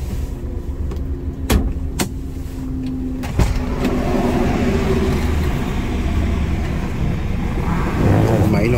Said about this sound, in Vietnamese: Máy nổ rất là êm luôn.